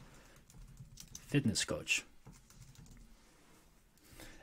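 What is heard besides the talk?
typing into Instagram search bar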